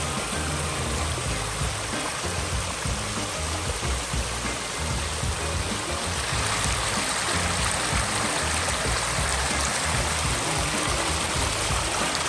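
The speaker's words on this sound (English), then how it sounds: "We've got the sounds of the waterfalls back" A restored ecosystem pond's waterfall pours steadily and loudly at close range, a continuous rushing splash with no pauses and no voices over it.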